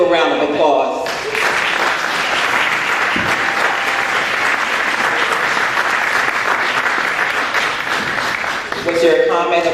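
Audience applause at a runway fashion event, a dense sustained wash of many hands clapping that fills the room for most of the stretch, loud and steady, with brief talk at the start and end.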